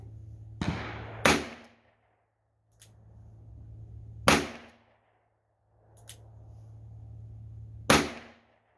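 Shots from a Kimber K6s Target double-action revolver fired at a range, several sharp loud cracks spaced a few seconds apart, some in quick pairs, over a steady low hum.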